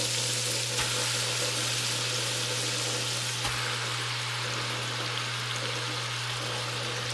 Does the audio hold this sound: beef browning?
yes